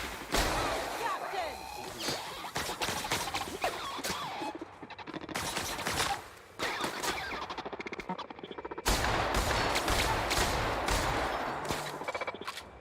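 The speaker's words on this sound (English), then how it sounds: "How many times do I have to shoot you before you die?" Gunfire from the player shooting robots in The Outer Worlds, rapid bursts of shots in clusters with short pauses, fairly loud, mixed with game sound effects.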